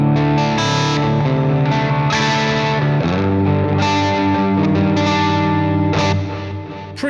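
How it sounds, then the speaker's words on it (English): Electric guitar played through the HK Puretone amp simulator on an ambient clean setting, sustained chords with lush chorus and echo yet still audibly crunchy and distorted, ringing loud for several seconds before a new chord strikes. "Let me go to the ambient clean tone here."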